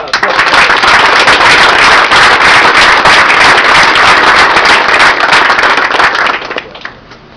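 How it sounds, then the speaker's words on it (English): Loud, sustained applause from a military ceremonial gathering fills the space, dense clapping with some sharp cheers, holding steady before tapering off near the end. "Let's get a round of applause for everybody."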